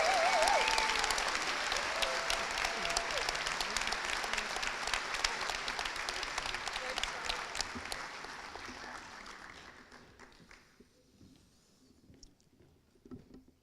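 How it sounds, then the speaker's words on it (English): Audience applause for nursing graduates at a university pinning ceremony, dense clapping that starts strong and gradually thins and fades out, leaving a few scattered claps at the end. "let's give a huge round of applause for the nursing graduates of Fall 2024"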